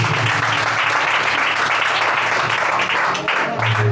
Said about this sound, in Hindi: आइए प्रभु के वचन के लिए जोरदार ताली बजाएंगे यीशु के लिए।